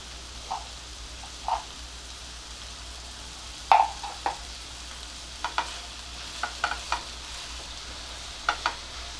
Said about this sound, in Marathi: कांदा आणि टोमॅटो पटकन शिजावेत म्हणून आता मी मीठ घालते